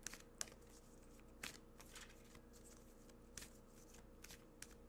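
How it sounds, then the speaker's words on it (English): A deck of cards is shuffled quietly nearby, giving a few scattered riffling bursts and soft taps over a low room hum. "these cards just don't even want to shuffle."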